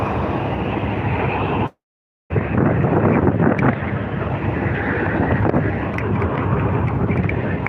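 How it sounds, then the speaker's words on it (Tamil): Strong, steady wind buffeting the microphone with a roaring, broadband rush, cut by a brief silent gap before the gusting resumes just as loud. "காற்று ரொம்ப அதிகமாக இருக்கு."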